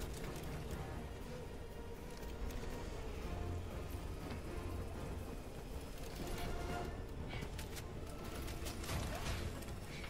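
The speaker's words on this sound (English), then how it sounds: "All right, called in the auto cannon sentry." An autocannon sentry deploying in Helldivers 2, heard as continuous mechanical clanking and whirring with scattered sharp metallic clicks, dense and fairly loud throughout with no speech.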